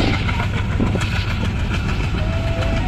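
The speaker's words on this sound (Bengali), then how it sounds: "এই যে উপর দিয়ে ট্রেন যাচ্ছে" A train rumbles overhead beside a local cricket match, a loud, steady rolling din with clattering wheels filling the whole stretch without a break.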